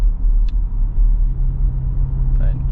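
A 2024 Toyota Tacoma SR5 pickup truck drives along with a steady low engine and road rumble throughout, a faint tonal whine rising briefly near the end, and no speech.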